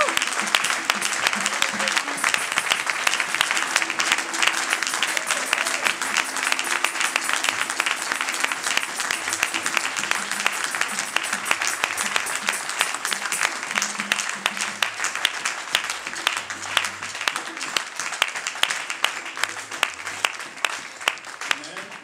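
A church congregation breaks into sustained, dense applause, loud and continuous throughout, with voices and cheers mixed under the clapping.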